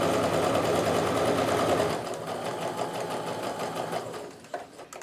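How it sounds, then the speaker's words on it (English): Sewing machine stitching quilt block pieces, a fast steady mechanical whir with rapid needle clatter that runs continuously and eases slightly toward the end. "And then I'm going to make sure that these points line up at the back and sew the rest of the way."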